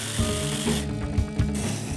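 A jigsaw cuts through wood with a rough, rattling buzz that surges and eases in short pulses, close and steady.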